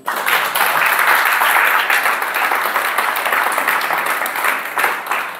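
A church congregation breaks into loud, sustained applause, dense clapping from many hands heard close and continuous for several seconds.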